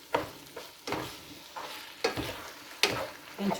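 Ground meat and onion stirred together in a big pot for spaghetti sauce, a spoon scraping and pushing in a few separate strokes over a soft sizzle, close and moderately loud with no talking.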